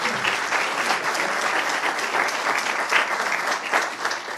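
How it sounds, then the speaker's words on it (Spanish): An audience at a stage show applauds a volunteer called up, dense steady clapping that stays fairly loud for a few seconds. "un aplauso para Francis"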